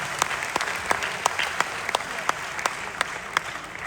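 An audience claps for a young woman poet at a youth poetry gathering (kavi sammelan), a dense wash of applause with sharp individual claps standing out near the front.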